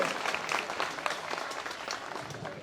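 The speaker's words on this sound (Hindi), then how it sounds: "तो जोरदार तालियां बजा दो" Audience applause at a political gathering, a continuous busy patter of many hands clapping at moderate volume for a couple of seconds, with faint crowd voices mixed in.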